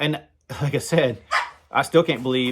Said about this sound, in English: sorry about the dogs out in the porch playing.